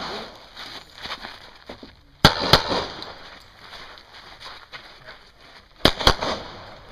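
Gunfire at a CCW shooting match, with two quick pairs of sharp, loud shots cracking out a few seconds apart over low ambient noise.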